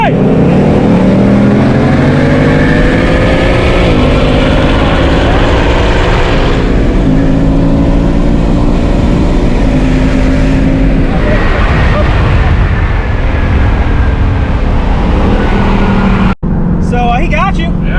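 Engines roar as a base model car and a PP1 performance-pack car accelerate hard side by side in a roll race. The loud, sustained revving continues throughout, with people talking and shouting over it.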